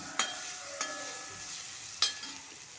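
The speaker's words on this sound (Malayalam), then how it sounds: "ഒന്നര ഇഞ്ച് വലിപ്പമുള്ള ഇഞ്ചിയും ഒരു എട്ടല്ലി വെളുത്തുള്ളിയും ചതച്ചത് ചേർത്ത് വഴറ്റിയെടുക്കാം" Crushed ginger and garlic sauté over medium flame in a pan for chicken thoran, a soft steady sizzle broken by a few distinct scrapes of the spoon stirring.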